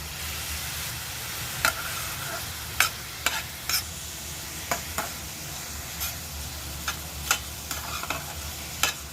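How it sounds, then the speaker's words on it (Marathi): Two finely chopped onions frying in oil with a little salt, a steady close sizzle broken by sharp spoon scrapes and clinks against the pan at irregular intervals, with no talking. "इथे हे बारीक चिरलेले दोन कांदे टाकलेले आहेत तेलामध्ये"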